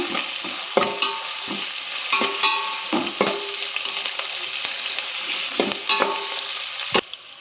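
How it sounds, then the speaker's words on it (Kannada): Bisi bele bath being fried and stirred in a pan, with a steady sizzle and repeated scraping strokes of the spoon, close and clear, and no talking. "ಫ್ರೈ ಮಾಡ್ಕೊಳ್ಳೋಣ"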